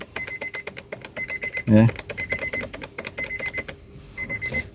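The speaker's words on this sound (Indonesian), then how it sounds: "ada bunyi buzzer, mobil tidak bisa dinyalakan sama sekali" A keyless start warning buzzer in a Honda Mobilio beeps in short, regular pulses, with someone speaking briefly and a clunk partway through.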